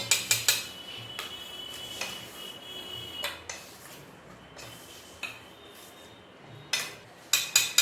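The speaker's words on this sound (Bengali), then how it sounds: "1 চামচ কর্নফ্লাওয়ার, 2 চামচ ময়দা দিয়ে ভালো করে মেখে নেব।" Chicken with soy sauce, a spoon of cornflour and two of flour is mixed by hand in a bowl, giving soft rubbing and squelching under sharp, close clinks of metal against the bowl at irregular intervals.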